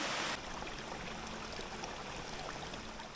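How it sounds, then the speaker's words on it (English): Distant waterfall rushing in a valley, a constant broadband roar that follows a brief louder burst at the start, with no talking over it. "There's even a real waterfall down there."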